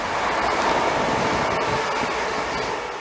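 A loud, steady rushing roar of a train passing close by on the line at Southall and Hanwell stations, continuous from start to finish, with no voices.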